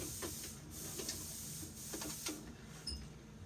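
Sewing machine back stitching a seam on a handmade dress, a faint, steady mechanical hum with light rhythmic ticking throughout.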